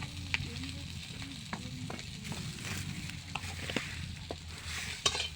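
Turmeric goes into a sizzling pan of frying food and is stirred, giving a steady crackling fry with scraping spoon strokes against the pan throughout.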